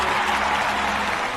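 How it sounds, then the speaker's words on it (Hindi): A crowd of many people claps together at a public gathering, producing a dense, steady wash of hands that stays even and close throughout without a break. "ताली बजाओ ताली"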